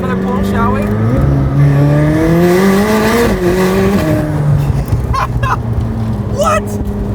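A McLaren 765LT Spider engine revs up hard through rising gear pulls, loud and close, with a sharp squeal near the end.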